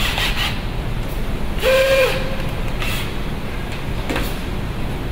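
Steel wool scrubs a car battery post in quick rough rasps and rubs, close and fairly loud, with a brief squeak partway through.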